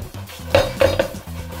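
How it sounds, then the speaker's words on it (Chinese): A crab being tossed in a wok with breadcrumbs and garlic, giving rapid metallic clanks and scraping knocks as the pan is jerked, several sharp clangs in quick succession close up. "让大家见识一下我的原地颠锅大法。"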